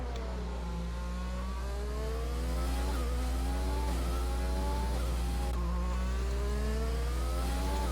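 A race car engine in a sim racing game at the Netherlands circuit screams steadily at high revs, rising through gears with brief shift dips, loud and continuous with no talk over it.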